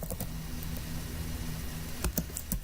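A few quick clicks on a computer keyboard, sparse taps at the start and a short burst near the end, over a steady background hum.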